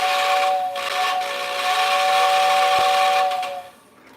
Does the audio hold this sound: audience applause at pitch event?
no